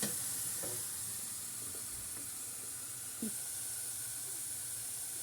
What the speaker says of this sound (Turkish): Karıştırıyoruz, karıştırıyoruz, karıştırıyoruz.